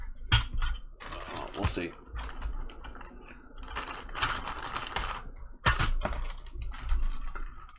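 Plastic AMT 1970 Chevelle SS model kit body pressed onto its chassis, a series of sharp clicks, snaps and plastic rattles in bursts, with a brief spoken remark.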